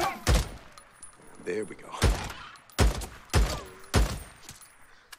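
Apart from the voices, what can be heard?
gunfire from the video game Days Gone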